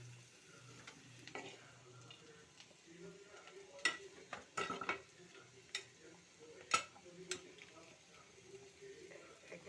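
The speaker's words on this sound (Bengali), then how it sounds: "এক এক করে সবগুলো ভাজি উঠিয়ে নিচ্ছি" Fried bitter gourd pieces are lifted one by one out of the pan, faint scraping and a low sizzle punctuated by irregular small clicks and taps of a utensil, quiet and close.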